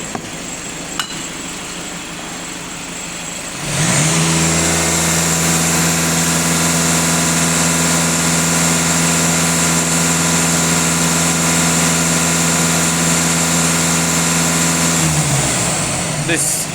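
A VW Passat 2.0 TDI diesel engine starts quiet, then revs up and holds a loud, steady rumble with strong harmonic drone before dropping off near the end.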